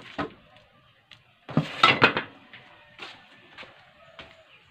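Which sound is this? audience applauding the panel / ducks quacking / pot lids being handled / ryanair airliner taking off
pot lids being handled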